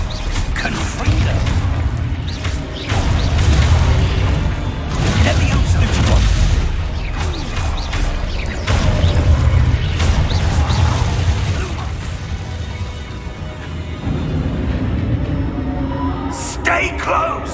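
Confringo blasting-spell explosions in Hogwarts Legacy burst repeatedly over a rumbling combat mix, loud and booming, with shouted voices between blasts.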